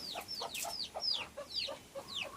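A hen clucks close by near her chicks, a quick run of short, bright clucks at a steady pace of roughly four per second, with no talking.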